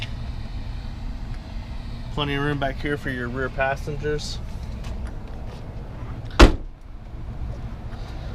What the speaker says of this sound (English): Has the rear door here, open up to the back.